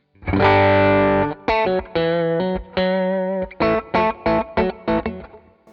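Rivolta electric guitar with all three pickups engaged, played through distortion: a long sustained chord opens, then a string of short, punchy chord stabs with sharp stops, loud and close with no talking.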